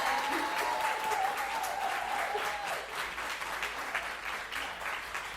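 An audience applauds performers after a fall music recital, with sustained, fairly even clapping close by and a brief high tone briefly audible early on.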